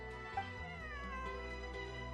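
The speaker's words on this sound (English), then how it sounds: "This is my friend's cat." Cat meowing in Genshin Impact: a single drawn-out, wavering meow rising then falling, heard close over a steady tonal game background hum.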